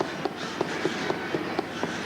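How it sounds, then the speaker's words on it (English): Minecraft cave ambience in a video game: rapid, evenly spaced knocks or running footsteps patter close by over a constant hollow background hum, about ten thuds in two seconds. "It's like knocking and like running footsteps."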